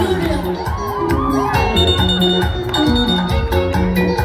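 A stadium crowd at a public celebration cheers and shouts loudly and continuously, with whoops rising over the dense roar for the few seconds heard.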